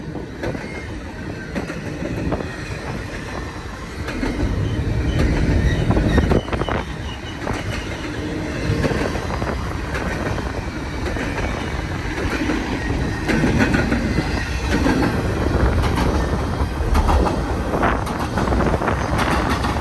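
A long freight train rumbles past nearby on the main line, wheels clattering over the rails with a steady roar and some wind buffeting the microphone.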